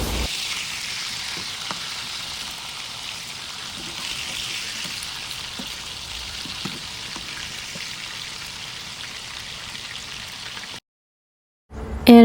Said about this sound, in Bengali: দিয়া আমি বালা করি মাছগুন বাজিয়া কিন্তু রান্ধিমু